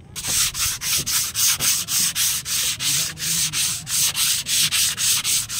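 Steady rhythmic sanding of putty with sandpaper before painting, quick back-and-forth strokes repeating evenly, close and fairly loud with no voices.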